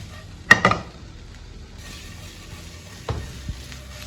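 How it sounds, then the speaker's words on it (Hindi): Boneless chicken tossed in a hot pan for black pepper chicken, with a sharp clatter and sizzle at the start, a quiet stretch of low frying hiss, then two more knocks of the pan near the end. "10-15 सेकंड के लिए चिकन को टॉस करेंगे अच्छी तरह से"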